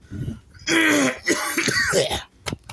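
A harsh, raspy throat-clearing cough in a couple of bursts, close and fairly loud, with no talking.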